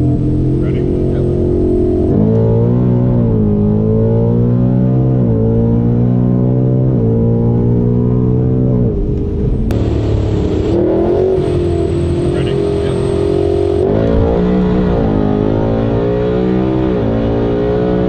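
A 900hp Vortech supercharged Gen 3 Coyote V8 in an S550 Mustang roars loudly through repeated acceleration pulls, its engine note climbing through the revs, dropping at shifts and climbing again, close and dominant throughout.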